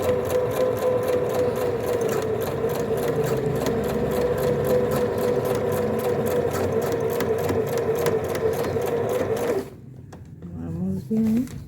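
A sewing machine runs a continuous rapid stitching rhythm while backstitching on trousers, then stops abruptly near the end, leaving a brief quiet with small handling noises.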